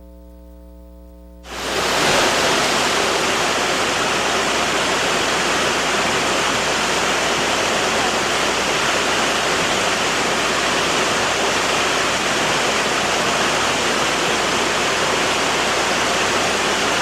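A waterfall at Devil's Kitchen on Enfield Creek, Robert Treman State Park, a loud, unbroken roar of rushing water that starts abruptly after a brief quiet moment and holds steady throughout.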